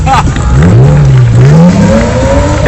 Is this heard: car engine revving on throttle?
yes